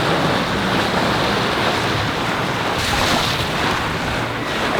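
Ocean waves and steady wind surround a sailing boat crossing the Atlantic at nightfall, a constant loud rush of water and wind noise with no pauses.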